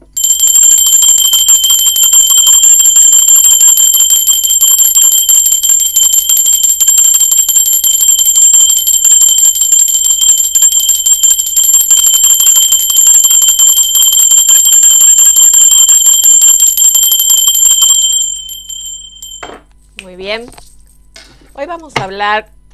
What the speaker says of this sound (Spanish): Ahora sí, va campana y dejo de hablar